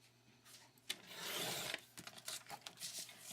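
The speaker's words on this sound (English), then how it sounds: "We'll trim it on the lines first." Printed paper being trimmed along its lines, soft close scraping and rasping cuts in short strokes, quiet and with no talking.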